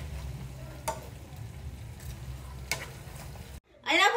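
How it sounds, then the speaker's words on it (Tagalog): Pork in a sauce sizzles in a pan with a low, continuous bubbling. A few scrapes of stirring cut through close by, and a loud clattering handling noise ends the clip after a short gap. "mix po natin hanggang mag-mix po yung sauce sa natin sa pork"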